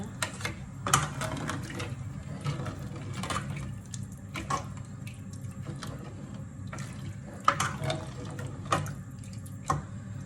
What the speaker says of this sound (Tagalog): Damihan na natin ang tubig yan